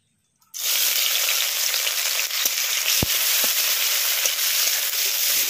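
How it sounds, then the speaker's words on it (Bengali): Chopped onion and green chili dropped into hot mustard oil burst into a loud, steady sizzle that starts abruptly and holds continuously, with a few faint stirring clicks and no voices. "তেলের মধ্যে এখন দিয়ে দিচ্ছি কুচনো পেঁয়াজ আর কাঁচা লঙ্কা।"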